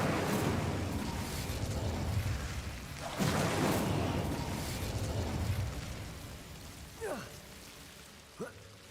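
A fiery burst from an Incendio spell in a Harry Potter video game crackles and roars over a steady rushing backdrop, with a second surge partway through and a couple of faint chirps near the end.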